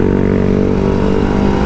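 A Kawasaki Ninja RR 150 two-stroke motorcycle engine revs up on an open road, a steady loud drone with harmonic bands that rise slightly in pitch and continue without pause.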